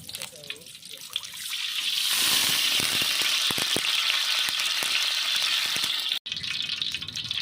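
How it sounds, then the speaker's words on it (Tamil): Hot oil poured into a heated pan crackles and hisses steadily, a broad sizzling wash with a few sharp pops and a brief dropout near the end. "சட்டி காஞ்சிருச்சு. எண்ணெய் ஊற்றிடுவோம்."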